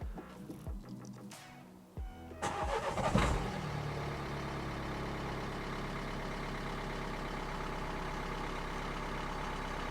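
A Renault Megane mk3 engine cranks briefly, catches with a sharp start and settles into a steady, even idle that runs close by for the rest of the clip.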